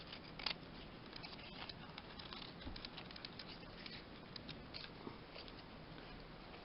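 Scissors trim a wet handmade tag in quiet, close snips and soft scraping, with a few sharper cuts standing out over a faint, steady hiss.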